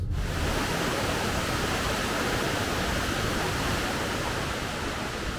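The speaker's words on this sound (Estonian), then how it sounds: "Tohutu müraga langeb Latefosseni kaksikkosk alla Lotevatnet järvest, 165 meetri kõrguselt" Låtefossen, a twin waterfall in Norway dropping 165 meters from Lotevatnet lake, roars as a constant, loud, broadband rush with no breaks or voices.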